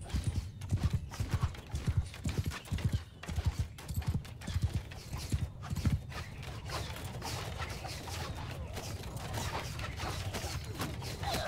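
Horses gallop in Mount & Blade II: Bannerlord, a battle game, their hooves drumming in a rapid, dense clip-clop that is loud at first and then blurs into a steady rumble, with no voices.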